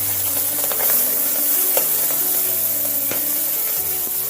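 Onions and vegetables sizzle loudly in hot oil for chow mein, a steady close frying hiss broken by scraping stirs of a spoon against the pan.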